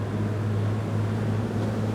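Engines of a 2001 Baia 54 motor yacht at about 2,000 revs under way on the water: a steady, loud, low droning hum with constant rushing noise on top.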